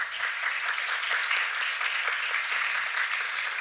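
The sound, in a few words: audience applause for panelists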